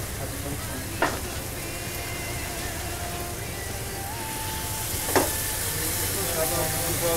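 A sizzling pan holding cinnamon hisses steadily as a little stock goes in. Two brief sharp bursts of hissing rise above the continuous frying noise, with faint voices in the background.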